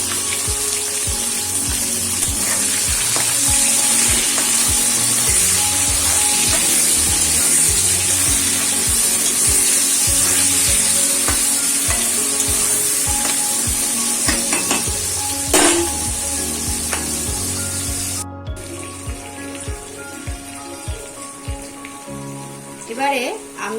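Chopped onions salted and frying in a pan for keema chana masala make a loud, steady sizzle close by, with stirring scrapes and crackles running throughout.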